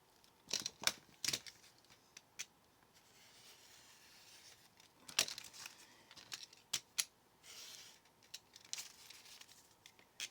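Material being cut to length, heard as a run of sharp snips and crisp tearing or crinkling sounds, clustered in bursts with short quiet gaps, close and fairly faint, with no talking.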